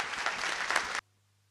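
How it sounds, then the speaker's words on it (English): A conference audience at a Python event applauds a speaker, a dense burst of clapping that fills the first second and then cuts off abruptly into near silence. "So just give a huge applause"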